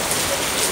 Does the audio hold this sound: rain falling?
yes